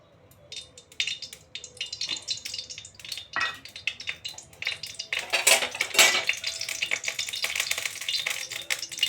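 Black cumin seeds crackle and sizzle as they temper in hot oil, with utensil clinks and scraping in a pan, and the sizzle swells louder partway through and stays busy to the end.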